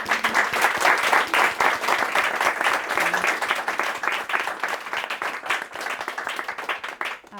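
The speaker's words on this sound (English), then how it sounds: "So I think another round of applause is in order for our panel." An audience claps for a panel at the close of a discussion on ocean economy risks, a loud burst of dense applause that slowly thins with distinct individual claps near the end.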